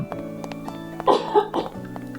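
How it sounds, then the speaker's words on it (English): A person coughs a few times in quick succession, fairly close, over a steady background of soft game music with tonal drones while touring a castle in a Minecraft world. "you can hear me cough."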